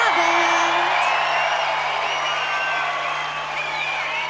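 A large live concert crowd cheers, whoops and yells continuously to welcome a singer on stage in 2000, a dense, loud roar of voices with whistles throughout.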